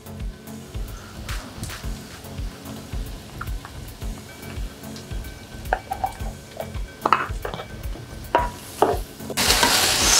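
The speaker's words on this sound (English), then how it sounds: "So make sure you stir in properly so that all the spices" A spoon stirring spices into coconut fried rice in a pan, a rhythmic scraping and shuffling with light sizzle, close and fairly loud, ending in a brief burst of louder noise, no speech.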